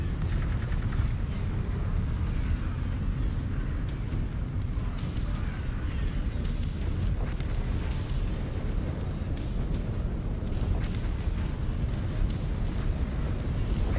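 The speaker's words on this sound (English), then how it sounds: "Hey, the orbital cannon is actually hitting it." Orbital cannon strikes pounding a target in MechWarrior 5: Clans (Ghost Bear), a dense, continuous barrage of loud booming explosions and gunfire-like cracks with rumbling low end throughout.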